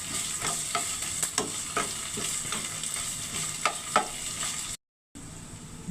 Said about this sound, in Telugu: అల్లం వెల్లుల్లి పేస్ట్ వేసాను.